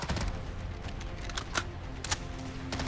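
SIG MCX Shrike gunfire in Fallout 4 crackles in dense, irregular bursts of sharp shots, some louder and closer than others, filling the short stretch without any voices.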